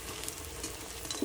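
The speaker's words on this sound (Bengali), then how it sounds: "লাল লাল করে ভেজে নিচ্ছি।" Food frying in a pan until reddish-brown, a soft steady sizzle with faint stirring scrapes, quiet and close, no voices.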